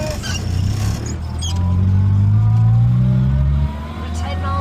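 A 1098cc Morris Minor Traveller pulls away from a standstill in first gear, its engine note climbing steadily as it revs, then easing off as the pull fades.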